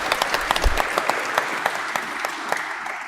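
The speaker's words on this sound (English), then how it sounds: "A round of applause for Tama" Audience applause for a candidate at a Hamilton West by-election debate, a steady patter of many hands clapping at moderate volume through the whole moment, with no talk over it.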